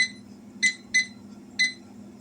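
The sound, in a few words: kitchen timer being set, beeping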